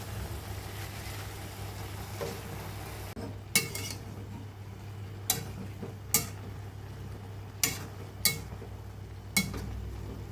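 Green and white mustard greens stir-fried in a pan, with a steady low hiss broken by several sharp scrapes and clinks of a utensil against the pan at irregular intervals.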